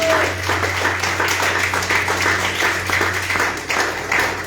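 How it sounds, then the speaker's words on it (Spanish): A church congregation claps together in a sustained burst of dense applause that fills the room over a low steady hum. "Denle un fuerte aplauso a Cristo."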